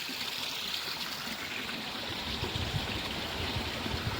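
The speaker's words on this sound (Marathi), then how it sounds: "झऱ्याचं पाणी आहे सगळं" Spring water running in a stream near a forest shrine, a continuous, even rushing and trickling with no voices.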